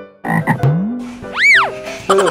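A cartoonish frog croak sound effect, loud and close, with a rising gulp and a springy, arching boing in the middle, set among bouncy children's-show sounds.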